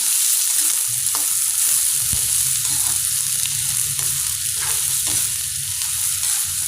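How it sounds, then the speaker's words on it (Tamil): Onions sauté in hot oil with mustard seeds for a Tamil ladies finger gravy, giving a steady close sizzle broken by occasional stirring scrapes, with no talking. "இப்போ நாம் வெங்காயத்தை சேர்த்துடலாங்க. வெங்காயத்தை நல்லா வதக்கிக்கோங்க."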